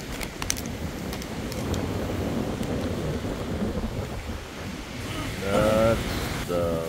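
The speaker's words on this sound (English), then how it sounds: "That's the waves." Ocean surf rolls in a steady low roar at a UAE shoreline during an overlanding camp, with a voice speaking briefly near the end.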